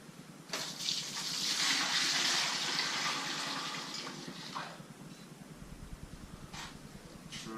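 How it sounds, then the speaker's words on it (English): Sanitizer poured from above onto a keg lid while kegging a home-brewed rye beer, a close, gushing splash of liquid that swells, holds for a few seconds, then thins into trickles and drips. "We pour the sanitizer on top of the top without pouring sanitizer all over the shop"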